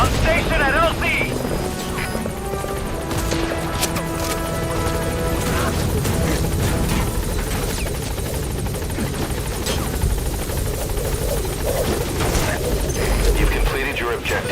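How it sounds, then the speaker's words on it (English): Pequod helicopter in the Metal Gear Solid V video game arriving at a landing zone: a loud, continuous rotor roar throughout, with a voice talking over it. "This is Pequod. On station at LZ."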